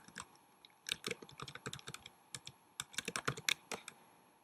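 Quiet, close typing on a computer keyboard, with irregular bursts of sharp key clicks and brief pauses between words.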